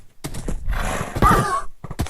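A Minecraft horse sounds off in a short burst of clip-clop steps and a whinny-like cry, fairly loud and close, with the game's ambient noise around it and no talk.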